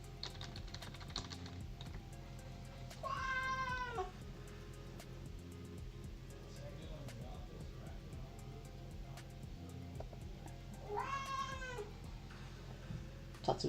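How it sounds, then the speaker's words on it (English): A house cat meows twice indoors, two drawn-out, wavering cries several seconds apart, amid steady computer keyboard typing and a low room hum. "your meows are so cute."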